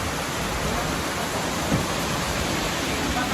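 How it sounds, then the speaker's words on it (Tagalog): Strong typhoon wind and rain roar as a broad, steady hiss with no pauses, loud and constant. "grabe yung hangin"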